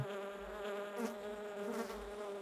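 Close, steady buzzing of a fly in the game The Plan, a continuous insect drone that wavers slightly in pitch and loudness throughout.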